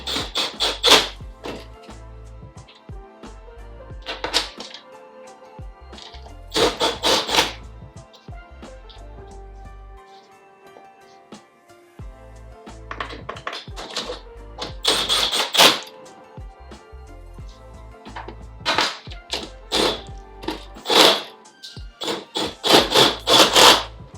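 Screws being driven into the bottom of a reptile enclosure, heard as repeated bursts of clicking, ratcheting and scraping separated by short pauses, close and fairly loud.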